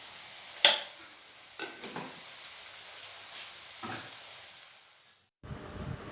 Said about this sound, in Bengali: এবারে খুব ভালোভাবে কষিয়ে নেব।